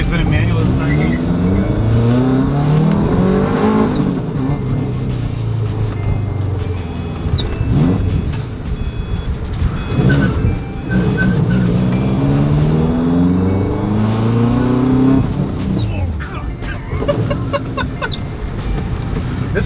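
A 2011 Subaru WRX STI with a roll cage accelerating hard through the gears, its engine note rising and dropping repeatedly, loud and close inside the cabin, with a voice talking over it.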